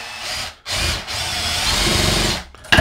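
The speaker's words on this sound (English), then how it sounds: "can I take my drill and drive this in?" Power drill driving a universal socket into wood, a close, loud continuous whir that cuts out briefly twice, then resumes before a short sharp burst at the end.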